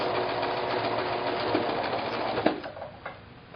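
A sewing machine runs continuously as it stitches around an appliqué leaf, a close, fast mechanical whir that slows with a few clunks near the end.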